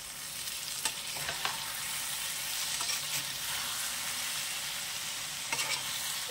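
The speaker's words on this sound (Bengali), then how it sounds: "এইবারে আমি নাড়াবো।" Small fish curry cooks in a pan over low flame, a steady sizzle broken by a few scraping strokes as it is stirred, close and moderately loud.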